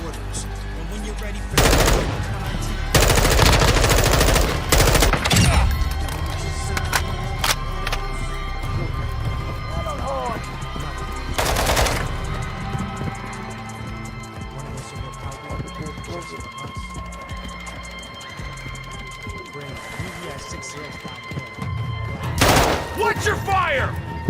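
Heavy automatic gunfire and bursts of shots from a Call of Duty MW2 DMZ match, loud and dense in repeated volleys with booming impacts, while players talk over the shooting throughout.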